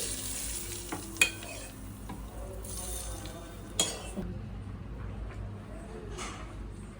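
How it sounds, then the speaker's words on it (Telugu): Oil left from frying onions poured and spread over mutton in a biryani pot, a close sizzle with stirring scrapes and a few metal clinks against the pot. "ఆనియన్స్ ఫ్రై చేసుకున్న ఆయిల్ అయితే ఇందులో వేసుకోవాలండి"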